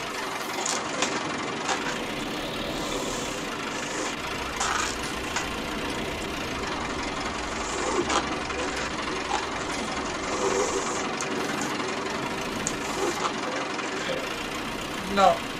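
A tractor engine idles on a snowy farm, a steady mid-low rumble running the whole time with people talking over it and a brief louder knock at the end.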